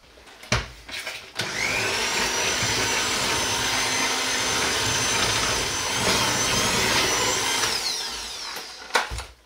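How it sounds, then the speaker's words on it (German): An electric hand mixer whirs loudly and steadily while kneading apple yeast-braid dough in a bowl, a continuous motor drone with brief clunks as it starts and stops. "Jetzt kneten wir das mal kurz mit dem Mixer durch."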